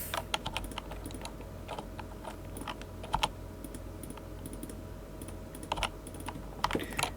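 Rapid, uneven tapping of computer keys, with occasional louder clacks, continuing steadily and close by with no talking.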